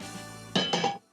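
A plate clinks and clatters in a short burst of two or three close, bright knocks as a buttery frittata is slid onto it from the pan, then the sound drops to near silence.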